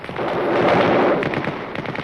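A cannon-like weapon fires in an audio drama, a loud sustained blast with crackling rumble that swells and then breaks into scattered pops and debris, with no voices over it.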